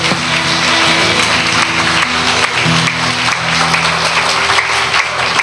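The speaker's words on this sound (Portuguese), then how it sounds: "Se você pode, aplauda ao Senhor." A church congregation claps loudly and continuously through a worship service, a dense wash of applause sustained from start to finish, with steady musical tones running underneath.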